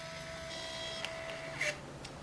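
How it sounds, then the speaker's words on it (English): An HP Sprocket portable phone printer prints a photo with a thin, steady mechanical whir and faint high tones, broken by a couple of brief clicks near the end. "to Sprocket Printer, so it's printing out."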